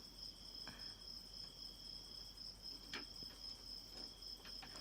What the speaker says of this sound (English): Yes, the cricket sound.